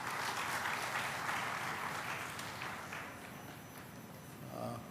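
Audience applause welcoming a guest at a college award function, a dense steady wash of clapping from a sizeable crowd that holds for several seconds and fades slightly toward the end.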